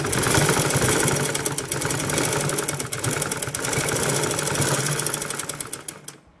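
A sewing machine stitches loose palazzo pants with a rapid, steady mechanical whir and dense needle clatter up close, slowing near the end before stopping.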